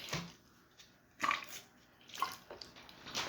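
Water is poured in a few short, splashy bursts separated by quiet gaps, close by in a quiet indoor space.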